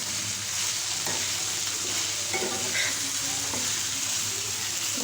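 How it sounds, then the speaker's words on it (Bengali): Sliced bitter gourd (karela) frying in a pan sizzles steadily, with occasional scrapes and clicks of stirring, close and even throughout. "কিছুক্ষণ পরপর একটু নেড়ে দিব।"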